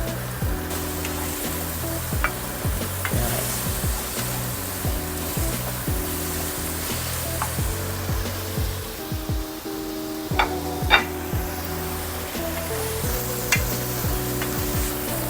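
Tuna and mushrooms fry in a pan, a steady sizzle with repeated scraping and stirring strokes and occasional sharp clinks of a utensil against the pan, close and continuous throughout.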